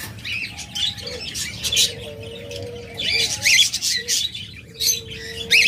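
Caged pet budgerigars and lovebirds at a bird sale chirp and squawk in quick, overlapping calls, some sharp and close, with short whistled notes between the bursts.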